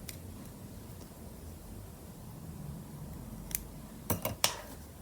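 Scissors trimming beading thread on a beaded tassel, two or three quick crisp snips close up near the end after a quiet, hushed stretch, no talk.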